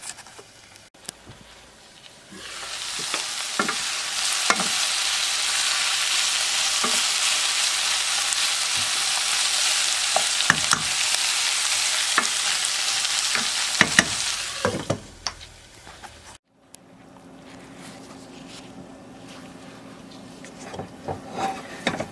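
Sweet onions frying in a pan while being turned to caramelize, for a Middle Eastern lentil dish (mujaddara): a quiet start, then a loud steady sizzle with occasional stirring clicks that cuts out near the end, leaving softer background noise.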